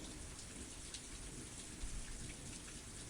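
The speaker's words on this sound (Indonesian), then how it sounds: "Hujan" Rain falling steadily as a dense, even hiss of drops, soft and distant with a faint low rumble and no voice.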